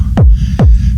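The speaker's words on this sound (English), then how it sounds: "those are two methods to make a rumble kick with" Two rumble kick drums produced in Ableton, each a hard punchy hit sliding into a deep, sustained low rumble, evenly spaced and loud, with no voices.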